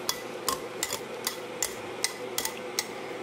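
Onions are tossed with apple cider vinegar in a bowl for a winter squash salad, giving a series of light, sharp clicks and taps at a steady rhythm over a quiet, soft background.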